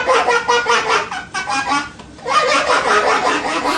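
A human voice imitates a duck, giving loud, nasal honking quacks in rapid runs, with a short break in the middle before the quacking starts again.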